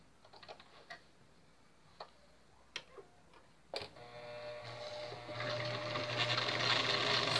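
A sewing machine stitches the side seam of a puppet, starting after several soft clicks and taps and building into a continuous close mechanical whir.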